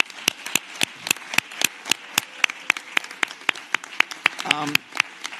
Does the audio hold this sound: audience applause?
yes